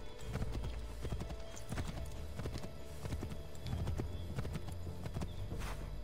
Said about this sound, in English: How come I can't spur the horse?